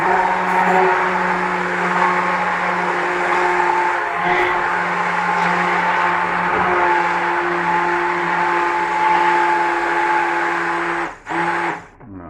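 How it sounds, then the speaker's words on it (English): A blender purees asparagus soup with a steady, loud motor whine holding one pitch for about eleven seconds, then cuts off abruptly with a couple of short stutters at the end. "So let's puree this into there."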